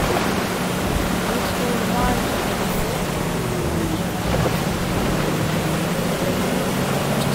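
A motorboat in the Fortnite video game runs steadily over water, giving a continuous broad rushing wash with a low engine hum underneath, with no talk and no breaks throughout.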